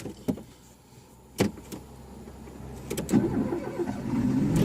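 A car engine cranks and catches during a driving lesson, with sharp clicks and clunks early on before a steady, rising engine rumble settles in near the microphone.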